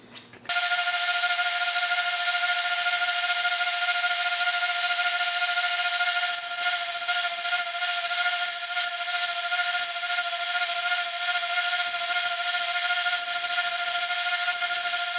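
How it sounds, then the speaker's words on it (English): A steady, loud power sander whines continuously with a sustained tone while sanding a small wooden glide-bait fishing lure, running alone without pauses for the full stretch. "Gonna do a little sanding."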